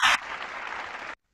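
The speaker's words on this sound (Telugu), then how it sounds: "అందరూ ఒకసారి క్లాప్స్ కొట్టండి." Children clap together over a Zoom call, a brief burst of mixed claps lasting about a second before cutting to silence.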